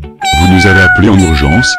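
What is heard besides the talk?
cat meowing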